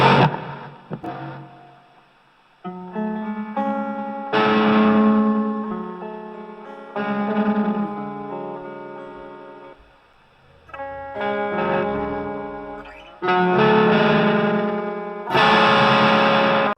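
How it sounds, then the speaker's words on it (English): High-gain guitar played through a budget pedalboard's lead channel with reverb, loud distorted chords and notes ringing out in bursts, each phrase trailing off into a reverberant tail before brief gaps, with no voices. "I got reverb."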